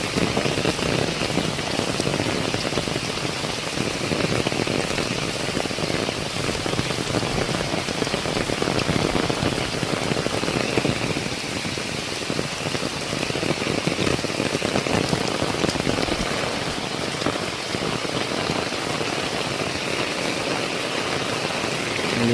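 Steady heavy rain falls in a village, a dense unbroken hiss of drops on surfaces with a faint low hum beneath, continuous and close throughout.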